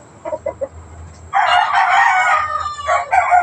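Fighting roosters crow loudly and close, a long cock-a-doodle-doo following a few short clucks, with another crow starting at the end.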